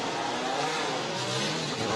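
Formula 1 cars leaving the garage during practice at the 2021 São Paulo Grand Prix, a loud, steady broadband engine roar with crowd-like wash that holds constant throughout.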